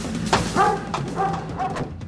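A police dog barks a few times at a hostage crisis scene, with short sharp yips and whines in quick succession, fairly close.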